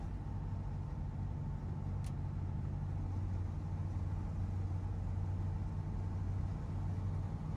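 A low, steady engine drone and road rumble from a 1963 Chevy C10 pickup truck cruising along, heard from inside the cab, smooth and moderately quiet with a constant hum and no talking.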